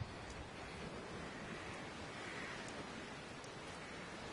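Stormy wind and crashing waves forming a continuous, faint wash of noise with no distinct breaks.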